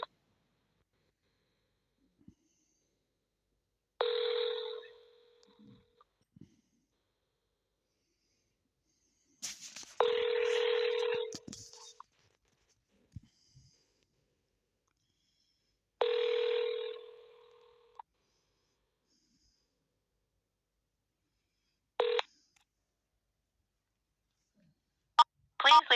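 Several short telephone keypad dialing tones sound alone in near silence during a call, spaced a few seconds apart, each a brief clean burst.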